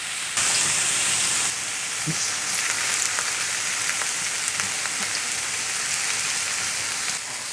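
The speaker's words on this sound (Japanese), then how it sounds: "これも焼き色をつけながら強火で炒めていくので、全体的に広げて火を強火にします。" Ingredients for hayashi rice stir-frying on high heat in a pan, a steady loud hissing sizzle with faint clinks and stirring scrapes running throughout.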